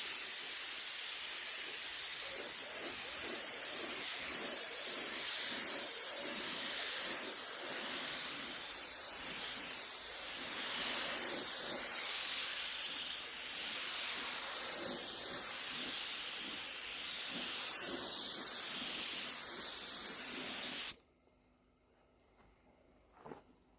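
Spray gun laying down the final paint coat on a car wing at home, a steady close hiss with small pulsing variations running unbroken for about twenty seconds before cutting off to near silence.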